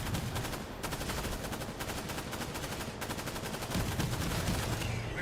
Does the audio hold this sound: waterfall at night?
no